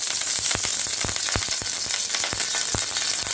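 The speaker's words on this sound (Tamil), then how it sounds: "கொஞ்சம் தேங்காய் பல்லாக கட் பண்ணி வச்சுருக்கேன், அதையும் சேர்த்துக்கலாம். கோல்டன் கலர் வர வரைக்கும் நல்லா வறுத்துக்கலாம்" Pieces of coconut fry in ghee in a pan for payasam, a loud continuous sizzle broken by frequent sharp crackles and pops.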